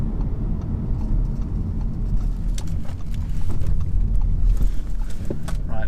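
A 2017 Audi A4 Avant drives along a road with a continuous engine and road-noise rumble that swells slightly near the end, no voices present.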